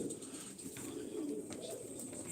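Sivas pigeons, a young bird among them, give soft low cooing calls, faint and close, with a brief higher chirp near the end.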